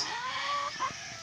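An old, very large rooster on a farm clucks in a few short, close calls over steady background noise.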